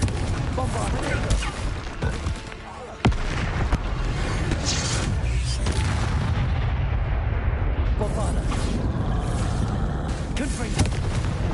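The Bombarda blasting spell in Hogwarts Legacy lets off heavy booming explosions amid dense game combat noise, with a sudden sharp burst partway through and a person speaking over the din.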